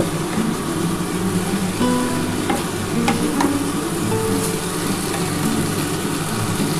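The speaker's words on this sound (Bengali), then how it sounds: "এবার এই মশলাটা দিয়ে ভালো করে কিন্তু এই সবজিটা কষিয়ে নিতে হবে" Mixed vegetables cooking in a pan with spices, a steady dense sizzle with scraping stir strokes throughout, loud and close, with no voices.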